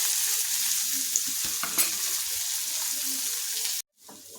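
Finely chopped onion fries in hot oil with ginger-garlic paste, asafoetida and torn curry leaves, a loud, steady close sizzle with occasional stirring scrapes that cuts off near the end.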